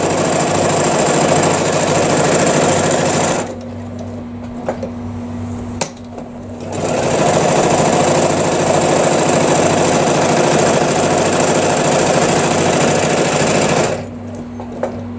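A sewing machine tacks stitches into fabric, running in long steady buzzing bursts with two short pauses between them, close up and with no talk.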